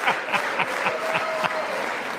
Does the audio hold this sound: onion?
no